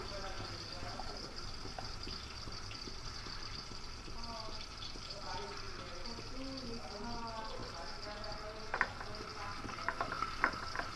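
Pointed gourd frying in a pan with Kashmiri chili powder sizzles steadily up close while being stirred and tossed, with a few sharper scrapes and clinks near the end, under a voice talking.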